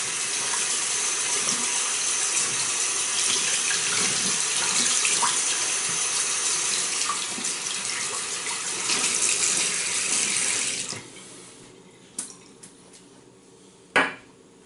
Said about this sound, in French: Rincer notre brosse.